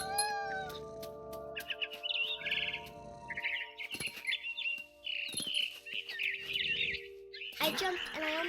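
A cat meows and chirps in the video game What Remains of Edith Finch, with repeated short calls mixed with bird-like tweets over a layered music and effects bed.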